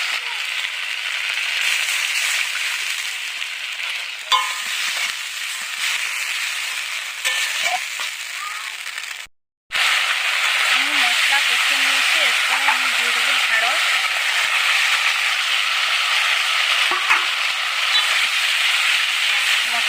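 Okra fries in a pan with mustard paste added, giving a steady, close hiss and sizzle with occasional stirring scrapes. The sound briefly drops out midway, then resumes just as strongly.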